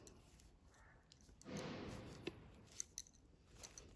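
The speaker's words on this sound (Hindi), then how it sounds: "इस धागे को थोड़ा सा लंबा काटेंगे" Scissors snip knitting yarn during sock making, a soft cut followed by a few faint, crisp clicks in a quiet room.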